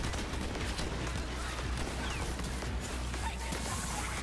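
Burst rifle gunfire in Borderlands 3, heard as a dense, continuous wash of game combat noise with rapid shots and impacts at a steady level throughout.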